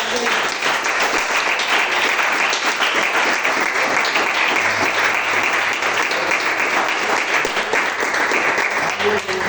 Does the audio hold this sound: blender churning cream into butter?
no